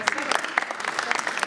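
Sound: audience applause after film premiere

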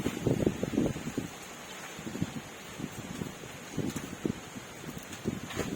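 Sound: strong wind blowing like a storm

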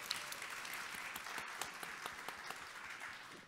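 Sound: audience applause for speaker

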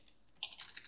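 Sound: typing on a computer keyboard

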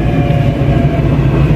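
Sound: Taipei MRT train riding on the blue line

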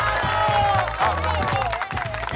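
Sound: crowd applauding and cheering

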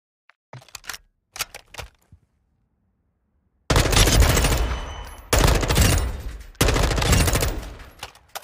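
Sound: gunfire from a gun in the video game High on Life

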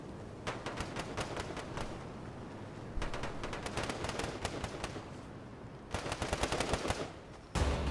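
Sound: gunfire in Fortnite video game

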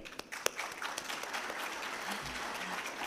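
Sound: audience applause

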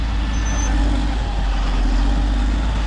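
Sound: Cat motor grader engine running while maneuvering

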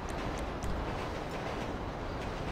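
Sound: train passing by, from video game GTA 5

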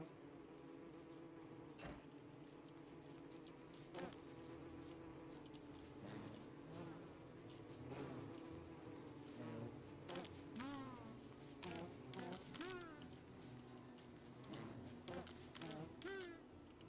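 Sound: bees buzzing in the video game Don't Starve Together

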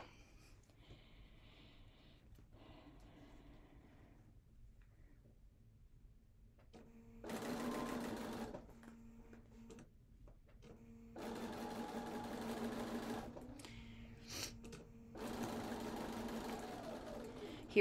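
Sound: sewing machine sewing a quarter inch seam

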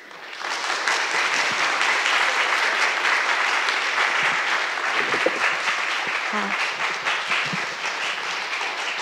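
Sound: audience applause at g0v summit talk

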